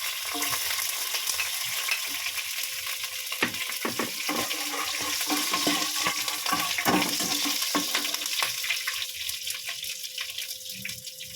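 Garlic sizzling and browning in a hot pan while being stirred, a steady close frying hiss throughout with scraping stir strokes, no talk.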